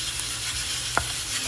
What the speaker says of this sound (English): for right now, we're just sauteing this